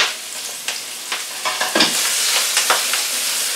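Spring onions fry in a large pan, a close crackling sizzle with repeated spatula scrapes and stirring knocks roughly every half second over steady hissing oil, no talking.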